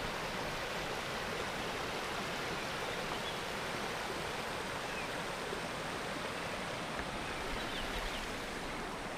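A river runs beside a campsite in the Eastern Cape highlands, giving a steady, even rush of flowing water that stays constant throughout with no voices.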